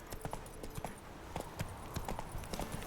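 Roach, the horse in the video game The Witcher 3, gallops with quick, steady clip-clop hoofbeats throughout, close and clear, with no voices over it.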